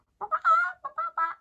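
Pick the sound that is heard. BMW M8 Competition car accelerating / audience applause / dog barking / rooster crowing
rooster crowing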